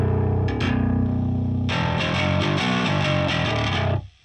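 Distorted bass guitar through a Marshall amp plugin, played alone: a sustained low note rings, then a gritty run of fast picked notes follows before cutting off abruptly near the end.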